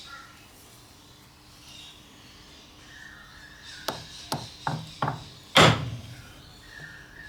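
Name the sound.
chiseling out a piece of wood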